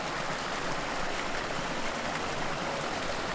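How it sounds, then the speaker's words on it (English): A small creek flows steadily beside a campsite in the Alabama Hills, a constant close rushing and babbling of water that fills the short stretch without any voices. "This lovely little creek."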